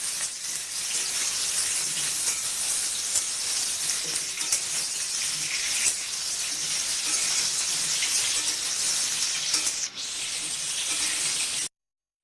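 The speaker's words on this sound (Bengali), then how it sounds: "এবার আলুটাকে বেশ ভালো করে ভাজবো।" Washed potatoes frying in a pan for an egg and potato curry give a steady, broad sizzling hiss that holds evenly, then cuts off abruptly at the end.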